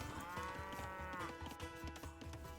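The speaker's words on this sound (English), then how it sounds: "And the final cow is brought in." A cow in a strategy video game AI tournament lets out a long, clear moo over a quiet, rhythmically pulsing game soundscape, with no one talking.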